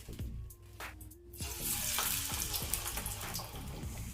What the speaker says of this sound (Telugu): ఈ విధంగా చేసుకొని మనం దీన్ని ఆయిల్లో వేసుకోవాలి